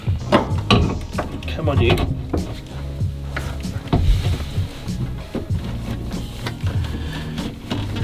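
Plastic and metal halves of a VW T3 steering column clack and rattle as they are worked together onto locating pins, with repeated close knocks and scraping while a person mutters.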